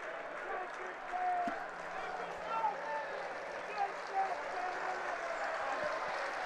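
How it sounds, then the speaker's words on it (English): Rugby league crowd in the North Stand at Wakefield Trinity versus Featherstone Rovers applauding a try by Ollie Pratt, steady distant clapping with crowd murmur and a commentator's voice over it. "Good round of applause from the North Standers for Ollie Pratt's try."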